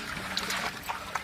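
Water is poured into a cooking pot of mutton biryani, making a short splashing trickle with gurgling bursts, close by and without speech.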